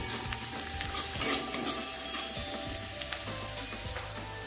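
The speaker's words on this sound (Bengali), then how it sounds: "পরিমাণ মতো হলুদের গুঁড়ো দিয়ে খুব ভালোভাবে এটাকে কষিয়ে নেব" Spices sizzle and fry in a pan with salt and turmeric while being stirred for a dhaba-style egg dish, a continuous crackling hiss with occasional scraping knocks, close and steady with no voices.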